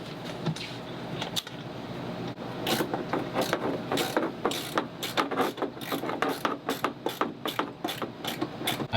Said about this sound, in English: I need to get into the bolts behind here to take off that whole stainless steel tube